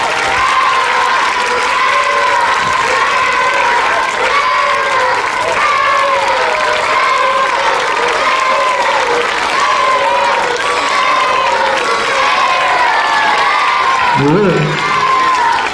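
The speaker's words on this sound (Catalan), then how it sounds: "Vinga, últim aplaudiment, últim aplaudiment." A school's sixth-grade farewell celebration ends with a final round of applause and cheering: a loud, dense crowd of parents and children clapping and whooping without pause, with a few shouts rising near the end.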